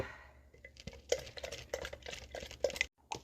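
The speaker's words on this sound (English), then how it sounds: "Add a little bit of half and half. Stir it up." A utensil stirs half and half into yogurt in glass quart jars, producing quiet, irregular clinks and scrapes against the glass, close and faint, with no talk.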